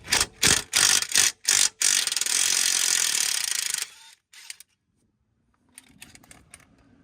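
An impact gun removes an E14 bolt from a front shock on a Mercedes-Benz W204 C-Class, with five short, loud rattling bursts and then one longer run. After that come quiet metallic clinks.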